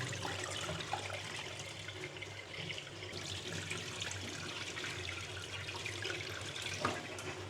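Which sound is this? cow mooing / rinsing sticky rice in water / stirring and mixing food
rinsing sticky rice in water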